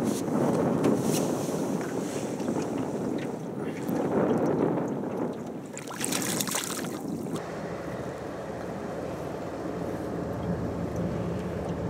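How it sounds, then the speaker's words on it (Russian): A cold north wind roars steadily across an open microphone on the Ob River, with gusty rushes and a low rumble, with no voices. "Дует северный ветер, такой промозглый, 3-4 метра."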